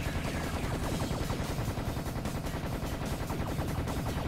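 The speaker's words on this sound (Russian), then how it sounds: "Там еще кто-то лазерами стреляет" Rapid continuous volleys of enemy laser fire in the shooter game Serious Sam, dense and loud, rattling like machine-gun bursts throughout without pause.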